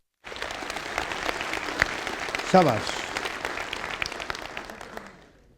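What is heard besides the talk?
audience applause for a boy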